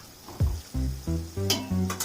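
Sliced onion and whole cinnamon, cloves and cardamom sizzle in hot oil and ghee for chicken biryani, with steady frying hiss broken by several low clanks and scrapes of a spoon stirring the pan, close and fairly loud, no voices.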